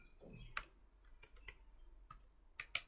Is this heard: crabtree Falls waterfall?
no